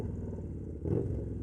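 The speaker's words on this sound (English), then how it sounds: "This exhaust is freaking undefeated, man." A Victory Gunner motorcycle's aftermarket exhaust gives a deep, low throbbing rumble that swells briefly partway through, heard close up at idle with no talk over it.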